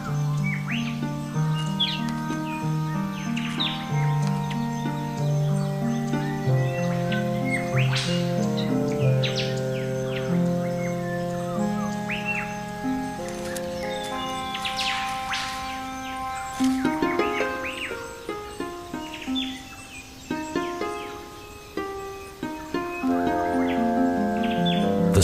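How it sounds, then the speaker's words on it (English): Many birds call and sing in the Daintree rainforest, a dense overlapping chorus of chirps, tweets and whistles running steadily throughout, fairly close and with no talking. "Daintree is also rich in colourful bird life, with more than 140 species."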